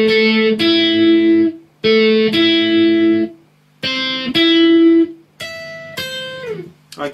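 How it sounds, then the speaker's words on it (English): Guitar 1 intro part of a song, played alone on a clean-toned electric guitar: repeated picked arpeggiated phrases starting and stopping in short bursts with gaps between, close and clear. "Guitar 1 is the part that sounds like this then."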